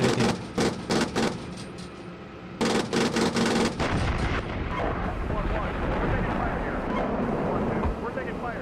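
Bursts of video game gunfire, sharp repeated shots clustered in the first few seconds, then a dense continuous rattle of rapid fire and crackling combat noise, loud and close, with voices over it.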